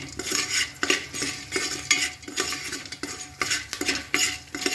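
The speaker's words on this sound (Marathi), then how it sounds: "परतून घ्यायचं असं" Raw corn kernels being stirred and roasted in a pan for homemade popcorn, with a utensil scraping and rattling in steady repeated strokes, close and fairly loud, no voices.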